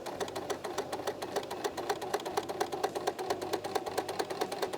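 A sewing machine stitching a frog pillow, its needle hammering in a fast, even mechanical rhythm, close and moderately quiet, running steadily without pause or talking.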